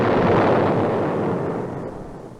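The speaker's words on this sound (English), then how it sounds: "a merchantman sailed, its guns booming and smoking" A merchant ship's cannon fires one heavy boom, close and loud, whose rumbling roar fades slowly.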